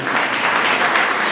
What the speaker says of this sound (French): je vous demande d'applaudir pour vous-même.